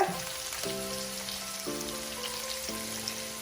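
Onions sautéing in a pan with added salt, a steady soft sizzle running throughout, with faint tonal hum lines in the background and no talking.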